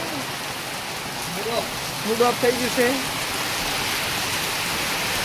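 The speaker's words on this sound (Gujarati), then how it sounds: "કેવો વરસાદ આવે છે, ભલભલાનું મૂડ ઓફ થઈ જાય એવો વરસાદ આવી રહ્યો છે." Heavy rain pours down in Mudetha on the seventh night of Navratri. It makes a steady, loud, dense hiss throughout, and a voice briefly talks over it.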